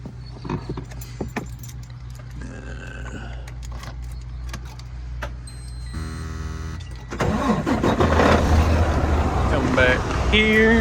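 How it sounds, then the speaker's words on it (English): A farm truck used for wheat harvest hauling cranks and starts up, preceded by keys jangling and cab clatter, then the engine catches and settles into a steady close idle. "Get this truck started up."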